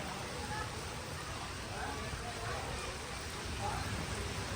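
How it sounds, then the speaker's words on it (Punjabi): Heavy rain pours over the market streets of Mandi Rori, with runoff water flowing through them, a steady dense hiss of moderate loudness that holds unbroken from start to finish. "ਮੀਂਹ ਦੇ ਨਾਲ ਜਿਹੜੇ ਆ ਉਹ ਬਾਜ਼ਾਰਾਂ ਦੇ ਵਿੱਚ ਪਾਣੀ ਜਿਹੜਾ ਪੂਰਨ ਤੌਰ ਤੇ ਚੱਲ ਰਿਹਾ ਹੈ"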